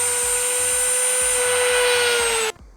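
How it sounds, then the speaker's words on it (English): A power tool trims excess plastic off a car head unit mounting bracket during a 9-inch head unit install in a Honda EK Civic, a loud, steady whine with faint rhythmic ticking before it abruptly stops. "it looks like I have to trim that excess off there"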